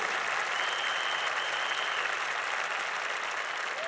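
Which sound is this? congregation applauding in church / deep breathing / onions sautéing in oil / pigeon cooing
congregation applauding in church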